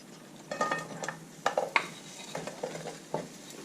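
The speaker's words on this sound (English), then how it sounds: "Make sure the frying pan is very hot before you put the zucchini in." Zucchini sizzles in a very hot frying pan while a utensil stirs and scrapes in bursts, close up, with no talking.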